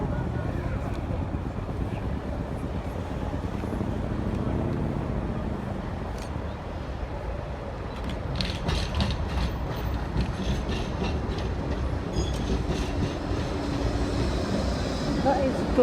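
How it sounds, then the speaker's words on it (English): A Blackpool tram passes along the seafront during the Illuminations with a steady mechanical rumble and rattling wheel noise that grows slightly louder, while a voice talks over it now and then. "Now is another Blackpool tram."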